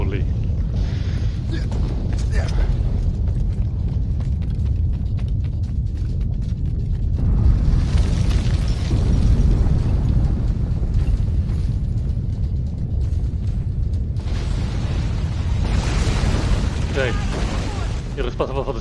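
A deep continuous earthquake rumble shakes through a scene in Assassin's Creed Rogue, loud low roaring with crumbling debris and bursts of noise, sustained for the whole stretch with voices intermittently under it.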